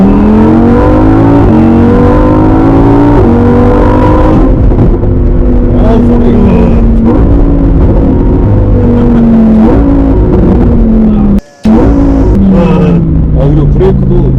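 A Lamborghini Huracán Performante Spyder with a dual-clutch gearbox drives along, its engine revving loud and close through rising and falling gear pulls, with a brief dropout near the end.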